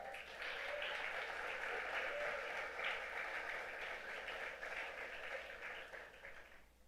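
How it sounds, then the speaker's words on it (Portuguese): A church congregation claps together during a Portuguese-language sermon, a sustained, moderately distant wash of applause that holds steady and then fades out toward the end. "Você pode dar uma salva de palmas por isso?"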